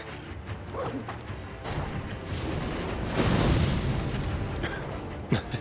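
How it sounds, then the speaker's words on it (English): A big explosion in the video game Sekiro: Shadows Die Twice builds into a loud, broad roaring blast that swells and then fades, followed by a sharp impact near the end. "That giant explosion did surprisingly little."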